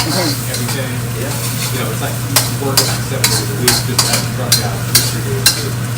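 Korat-style noodles stir-fried in a wok, a steady sizzle under repeated sharp scrapes and clanks of a spatula against the pan in an irregular rhythm, with a constant low hum beneath.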